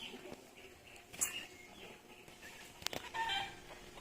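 Turkeys being moved into a bigger cage give faint clucks and short calls over a quiet pen, with a brief flurry near the start and a few sharper calls toward the end.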